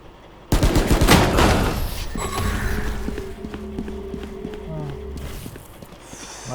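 Rapid bursts of Valorant gunfire crack out over a steady hum, with a lower mechanical droning underneath; no one speaks during the shots.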